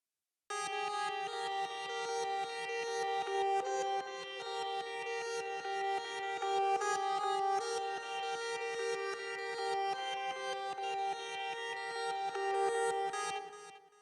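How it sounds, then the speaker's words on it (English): Reversed sample track on a Synthstrom Deluge, a dense continuous wash of bright harmonic tones with a steady pulsing texture underneath, delay and heavy reverb, sustained for about thirteen seconds and cutting off at the end, with no talk. "So now this is reversed and it sounds like this."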